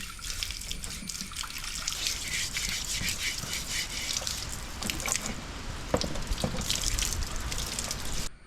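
An old curry pot is scrubbed and washed with a used scrubber under running water, giving a steady trickling, splashing wash with rubbing noises close by throughout.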